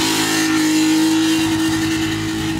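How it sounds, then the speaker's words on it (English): A modified BMW E36 car leaves a rainy car meet. Its engine produces a loud, close, steady rumble with a droning tone and light revving. No one talks. "We got the E36 leaving."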